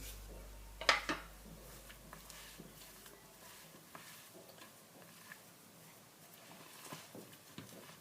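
Meat and potato korokke filling mixed by hand in a bowl: soft, faint squishing and scraping with a sharp clink of the bowl near the start, then quieter irregular rustles.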